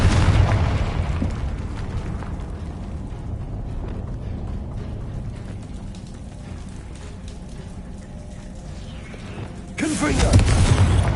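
Confringo spell explosion in the video game Hogwarts Legacy amid battle, a loud deep rumbling blast that sustains and fades, then a second boom near the end.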